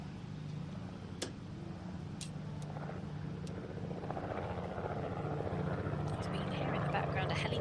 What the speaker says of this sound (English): You can hear in the background a helicopter or some sort of aircraft going over the arena.